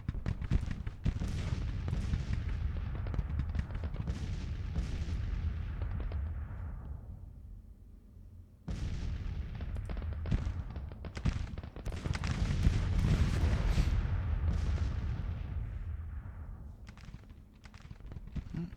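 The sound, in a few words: counter battery artillery fire in a Civil War video game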